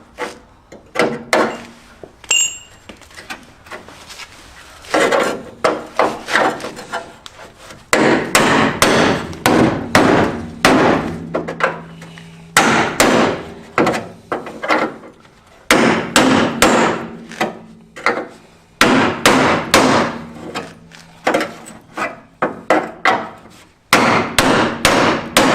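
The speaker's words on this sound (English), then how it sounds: "beat it out with a hammer and a chisel." Hammer and chisel strike repeatedly at the spot welds of a rusty Triumph Spitfire rocker panel, giving sharp metallic blows in irregular bursts and fast runs of close, loud hits with short pauses between them.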